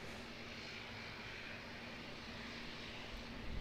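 An Emirates airliner at Auckland Airport gives a steady, distant engine roar, broadband and even throughout, with no speech.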